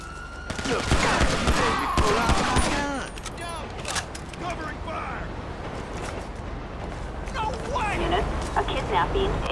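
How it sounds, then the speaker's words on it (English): Bursts of automatic gunfire and booms in Grand Theft Auto V, with a police radio voice and siren-like tones over the shooting, which thins into ongoing background noise. "Gunshots reported."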